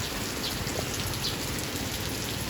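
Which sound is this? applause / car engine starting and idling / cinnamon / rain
rain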